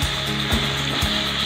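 Garlic and minced chicken frying in a pan make a steady close sizzle, broken by a few soft rhythmic scrapes of stirring, with no talking.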